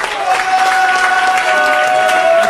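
A crowd claps and cheers continuously for the winners of a music battle, with a sustained tonal hum running under the applause.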